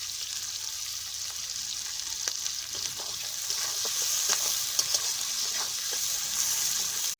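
Whole garam masala and bay leaves frying in oil with onion and green chillies, a steady close sizzle and crackle with faint scattered pops throughout.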